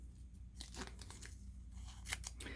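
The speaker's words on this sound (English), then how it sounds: "I want you to cut a piece of tape off of here" Scissors snip and crunch through tape in a few quick, close cuts, with crinkly tearing sounds between them; no voices.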